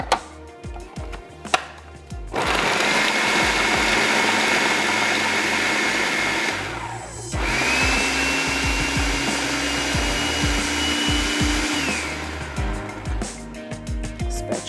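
A food grinder whirs loudly as it grinds onion and garlic for a Persian kabab mince, running in two long bursts separated by a brief stop, with a steady motor whine and a few clicks before and after.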